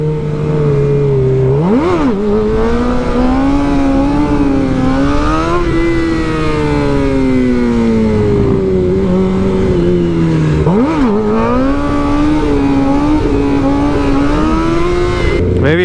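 A race motorcycle accelerating hard through its gears, engine note climbing, dropping at each shift and climbing again, loud and close throughout the run.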